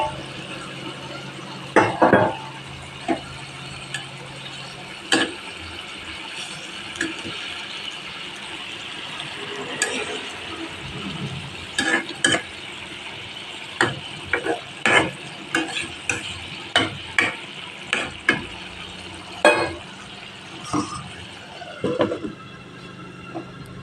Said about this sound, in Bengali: এখন মাছগুলো দিয়ে দিতেছি।